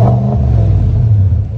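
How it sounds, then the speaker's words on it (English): A 2022 GMC Sierra AT4 ALC pickup's exhaust revs loud and close, a deep rumbling engine note swelling and holding steady before easing off at the end, with no talking over it. "Cooler exhaust, that sounds amazing."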